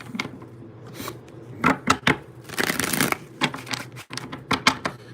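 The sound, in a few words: shuffling tarot cards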